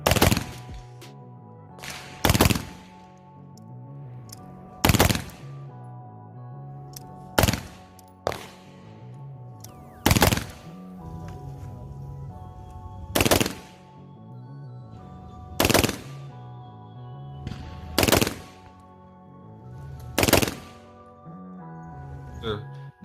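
Rapid shots from an AR-15 rifle at an outdoor range, loud sharp reports in quick bursts of two or three with short pauses between, about ten shots in all, close and dominant.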